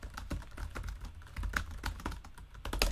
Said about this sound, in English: I was just typing in gibberish.